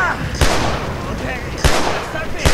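Gunfire in the first-person shooter Killzone 2, three loud sharp shots spaced irregularly over a rumbling, noisy battlefield background.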